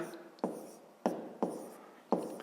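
Numbers are handwritten with a pen on paper for a fifth-grade maths exercise, four short distinct strokes with soft scratching between them, close and quiet.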